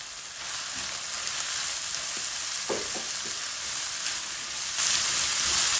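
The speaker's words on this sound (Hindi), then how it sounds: "अब आलू डाल के तो हम 1 मिनट 2 मिनट इसकी भुनाई करेंगे" Steady frying sizzle of boiled potato in keema kachori filling in a pan, with a few soft stirring scrapes, continuous and fairly even, growing slightly louder near the end.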